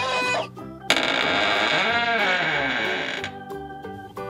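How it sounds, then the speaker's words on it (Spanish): Hen clucking, rendered as a bright, harmonically rich squawk that swells and holds for a few seconds against a background of light music and effects, loud and close. "¡Es la gallina!"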